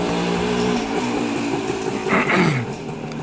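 A small two-stroke Voskhod 3M motorcycle engine buzzes continuously, rising briefly in a rev before settling, with a raspy drone heard from moderate distance.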